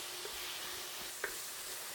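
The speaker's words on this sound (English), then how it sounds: "we'll cook this until the beef has browned a little bit" Ground beef browns in a pan for a Finnish macaroni casserole, giving a faint, even sizzle with a couple of light clicks from a utensil.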